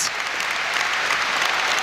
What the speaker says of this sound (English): As Everton fans continue to applaud